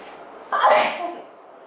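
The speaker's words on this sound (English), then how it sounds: "oh my god, I need to sneeze." A single sneeze bursts out loudly and close, a sharp onset that trails off over about a second, following a quiet room tone.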